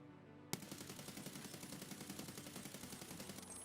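Rapid automatic rifle fire in the shooter game Escape from Tarkov: a fast, steady stream of loud shots that starts abruptly after a brief quiet moment and keeps up an even rhythm to the end.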